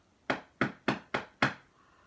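Someone knocks on something in a house five times at an even pace, each rap sharp and hollow like knuckles on wood, close and clear.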